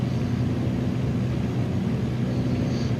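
Steady, close propeller-engine drone of a Kit Fox light aircraft taking off in Microsoft Flight Simulator 2020, droning evenly throughout with no voices.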